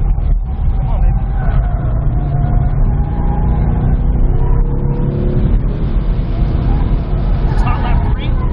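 A 2015 Ford Mustang on a hot lap around a race track, its engine droning and rising steadily from inside the cabin, loud and continuous, with a person talking over it.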